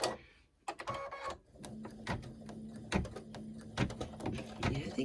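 An embroidery machine stitches a potholder in the hoop, giving rapid rhythmic mechanical clatter after a short pause at the start, close and fairly quiet with no talking.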